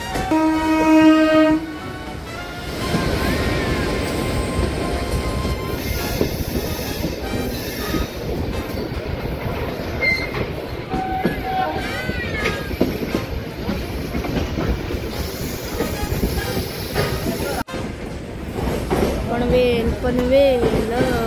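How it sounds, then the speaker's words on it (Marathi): A train rumbles past close by on the Konkan line near Panvel station, steady clattering and rolling noise for most of the stretch, with a brief horn-like tone at the start and faint squeals. "समोरून पण इकडनं ट्रेन आली आहे"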